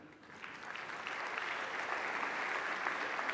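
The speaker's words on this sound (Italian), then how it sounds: "Anche per lei l'applauso della sala." An audience at an award ceremony breaks into applause, starting softer and swelling into sustained, dense clapping from a full hall.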